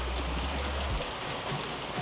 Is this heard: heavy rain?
yes